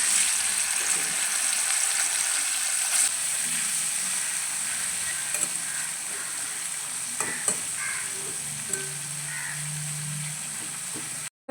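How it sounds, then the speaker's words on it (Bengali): Prawns sizzle steadily in hot oil for Bengali potol chingri, a loud, continuous frying hiss with occasional stirring scrapes and clinks close by, no talking. "তেলটা গরম হয়ে গেছে, এবার ওই তেলের মধ্যে চিংড়ি মাছগুলো ভেজে নেব।"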